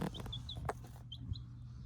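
Newly hatched chicks peep in a warm brooder, several short high chirps at close range, faint against a low background hum.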